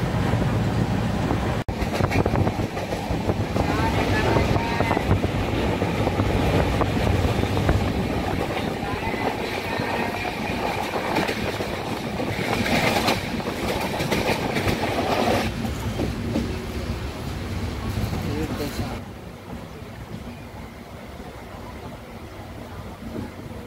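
A Janshatabdi Express runs on the Konkan railway with a loud, continuous rumble and rhythmic clickety-clack of the wheels, plus wind buffeting close to the microphone. The din eases a little near the end.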